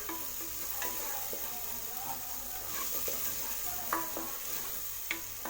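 Tomato and masala powder sizzle softly in a pan for chickpea gravy while a spoon stirs, with gentle steady frying hiss and occasional light scrapes and clicks against the pan.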